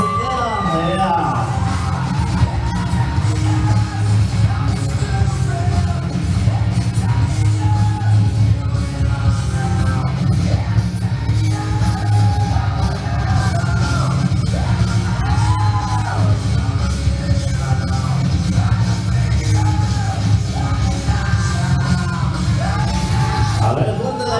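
Women at a quinceañera party yelling and screaming continuously, a dense crowd, loud and sustained, with many high voices rising over a constant roar.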